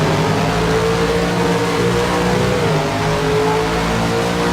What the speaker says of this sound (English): that engine, man, that engine is just simply intoxicating